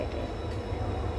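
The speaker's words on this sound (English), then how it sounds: "That is a train sound, guys." A train passes nearby, a continuous low rumble and rolling rail noise holding steady throughout the short moment, heard alone without talk.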